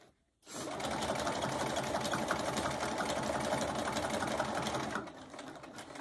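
A sewing machine runs a seam on a small quilted mug rug, starting after a brief silence and holding a steady, close mechanical hum for several seconds before easing slightly near the end.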